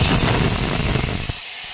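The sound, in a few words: green chillies sizzling in hot oil for tempering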